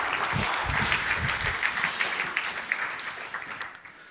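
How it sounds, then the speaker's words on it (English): An audience applauds volunteers at an agile teams talk, a dense, steady wash of many hands clapping that carries on throughout and thins out at the very end. "Could you give my volunteers a nice round of applause?"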